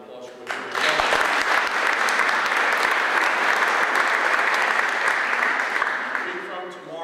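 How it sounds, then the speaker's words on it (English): Loud, full applause from a crowd at a social gathering in Madison, Virginia, rising sharply after a brief moment and holding dense and even for several seconds before easing slightly at the end. "how about a round of applause for George Welsh?"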